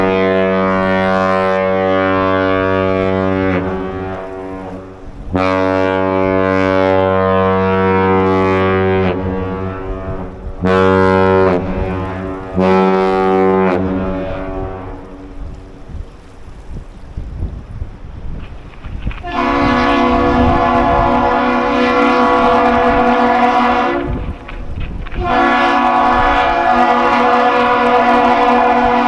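Deep, powerful ship horn from the lake freighter Joseph L. Block sounding a master salute: three long sustained blasts followed by two shorter blasts, loud and resonant outdoors with no talking.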